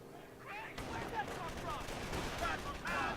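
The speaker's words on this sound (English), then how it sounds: "Guys are shooting each other." Gunfire in a strategy video game battle, rapid small-arms and machine-gun bursts rattling continuously over a busy battlefield din, with no talk over it.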